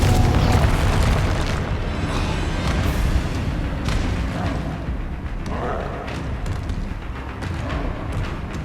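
A Confringo blasting spell going off in a Harry Potter video game: a loud, heavy booming blast with rumbling, sustained roar that slowly tapers off across several seconds.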